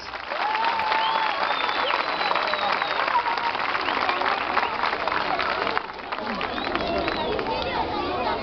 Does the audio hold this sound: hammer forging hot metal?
no